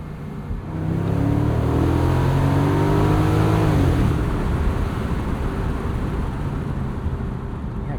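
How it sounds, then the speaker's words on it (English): 2003 BMW Z8 Alpina V8 roadster accelerates hard while driving past trees, the engine note climbing steadily through the revs before an upshift drops it into a loud, continuous drone. "See if we can bounce some V8 noise off the trees."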